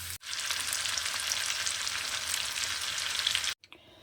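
Steady, loud frying sizzle as food cooks in leftover bacon grease, a dense hiss running unbroken for several seconds before cutting off abruptly near the end, with no talking.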